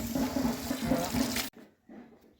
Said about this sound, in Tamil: தண்ணி வருது நல்லா இருக்கு